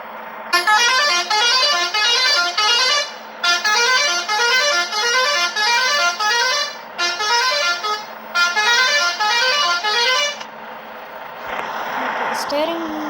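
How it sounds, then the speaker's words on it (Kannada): The third horn on a VRL bus mod in the Bus Simulator Indonesia video game plays a loud, rhythmic musical melody in four long repeated bursts with short gaps, followed by a quieter stretch at the end. "ಮೂರನೇ ಹಾರನ್ ನೋಡಿ."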